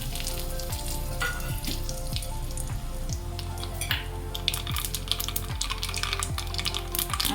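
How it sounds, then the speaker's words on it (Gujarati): Mustard seeds, cumin and curry leaves sizzle in hot oil, a steady dense crackle with scattered sharp pops from the seeds, close and continuous with no voices. "હવે આપણું તેલ ગરમ થઈ ચૂક્યું છે, તેમાં રાઈ, જીરું અને લીમડો એડ કરી દઈએ."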